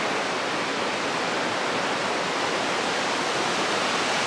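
The McCloud River rushes beneath a bridge along the Pacific Crest Trail in a steady, loud, unbroken roar of flowing water, with no voices.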